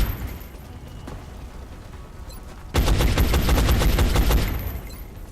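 Rapid burst of gunfire in XCOM: Enemy Unknown, loud and dense, erupting abruptly after a quiet stretch and rattling for nearly two seconds before tapering off.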